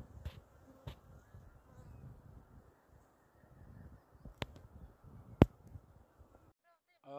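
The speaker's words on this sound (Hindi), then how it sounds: "इस पे ये मधुमक्खियों की आवाज़ सुन रहे होंगे, ये शहद ले जा रही हैं।" Honeybees gathering nectar on blooming rhododendron flowers in the hills make a low, soft, continuous buzz close by, broken by a few sharp clicks and knocks.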